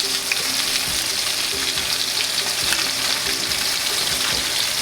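Striped bass frying in a pan over low heat, an even, continuous close sizzle with soft crackles and no voices.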